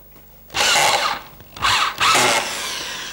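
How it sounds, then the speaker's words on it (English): A power driver sinks screws into a foam jig for fiberglass work, three close, loud whirring bursts with short pauses between, the last trailing off into a lower hum. "I'll grab the power driver, a couple of screws"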